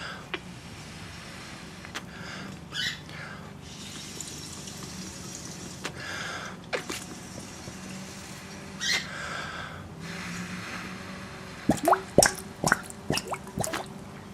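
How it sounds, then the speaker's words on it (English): Water drains and drips from a pipe into a garden fishpond, with soft irregular drips and plops over a quiet outdoor background, turning into a quick cluster of sharper drips near the end. "get the water out of the pipe, and it's actually draining quite quickly now"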